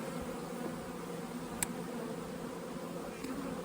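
Honeybees in a hive make a soft, steady buzzing drone that holds evenly from start to finish. A faint click or two breaks through briefly.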